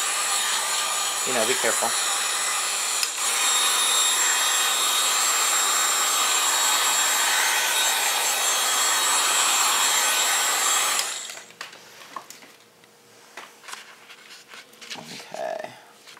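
A heat gun blows steadily and loudly over cardstock paper for about eleven seconds with a brief voice at the start, then cuts out, leaving quieter room sound with soft talk and light handling of the paper.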